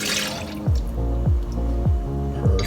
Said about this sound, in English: I have this melted coconut oil that I'm going to add into here.